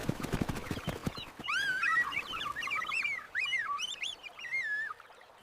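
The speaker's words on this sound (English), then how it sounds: "The birds are saying goodnight." Birds at a lotus pond at dusk give a run of high, warbling, whistled calls, clear and fairly close, after a few sharp knocking sounds at the start.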